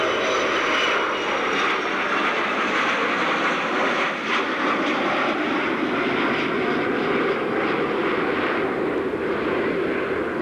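Large piston aircraft in an airshow display flying past, its engine roar loud and steady for about ten seconds with a slowly shifting drone and no talking.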